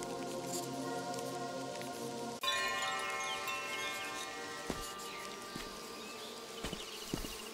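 Bees buzz in the video game Viewfinder, a continuous whirring drone that jumps louder partway through, joined by a few soft taps.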